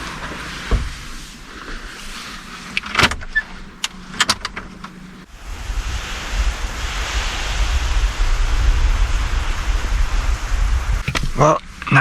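A Ford car in a video game idles and rolls inside an empty garage of an abandoned car factory, a steady low engine rumble swelling after a few clicks and thumps, with brief clatter near the end.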